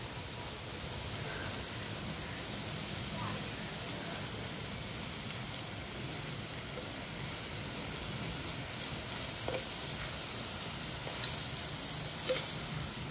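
Outdoors, onions and cinnamon fry in oil for a village-style mutton keema, giving a constant, even crackling sizzle like light rain that runs steadily throughout.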